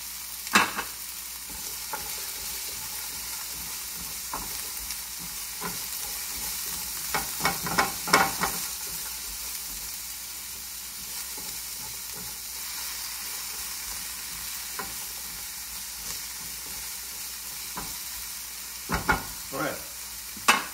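Zucchini, ginger, garlic, scallions and onions stir-fry in a pan for veggie pad thai. A constant soft sizzle runs underneath, with clusters of scraping, clicking stirring strokes around the middle and near the end.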